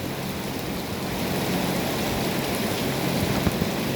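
Rain falling outside a cattle farm, a dense, even hiss of drops that continues without a break, with a few faint knocks near the end.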